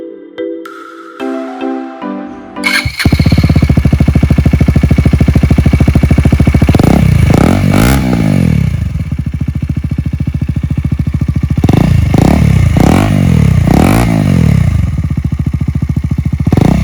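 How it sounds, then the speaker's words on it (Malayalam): A KTM Duke motorcycle with the exhaust DB killer removed roars loud and close, revving repeatedly in sharp rising blips over a raw, unmuffled idle after a brief quieter start. "ഇപ്പോൾ നിങ്ങൾ കേട്ടത് എക്സോസ്റ്റ് ഫുള്ളായിട്ട് ഊരി വെച്ചിട്ടുള്ള ഒരു സൗണ്ടാണ്."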